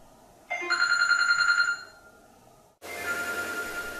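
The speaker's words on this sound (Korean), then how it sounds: "일반적인 소음도 들리는지 핸드폰 벨소리로 실험해봤습니다." A mobile phone ringtone rings indoors, a bright repeating electronic melody playing for about a second, stopping, then a second burst of ringing resumes more faintly with a low hum beneath.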